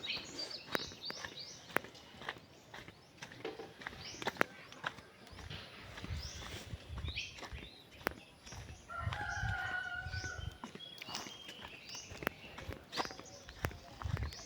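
A coop of about 300 chickens, some sick from the heat, with a rooster crowing faintly at a distance among soft clucks and occasional footsteps or shuffling, all quiet and sparse.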